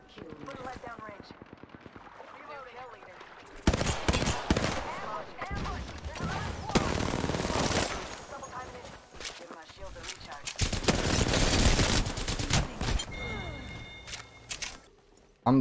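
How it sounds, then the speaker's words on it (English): Gunfire rings out in the Apex Legends battle royale game, with sharp bursts and rapid volleys that come in loud clusters around the middle and later parts, mixed with game effects and a player's talk. "I will shoot you instead, Wraith."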